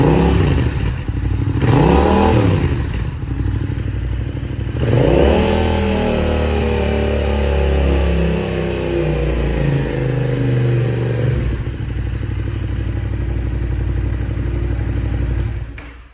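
A motorcycle with a stuck throttle after being dropped holds a loud, sustained engine roar, with a couple of early rises in revs before it stays high and steady, close by and without talk.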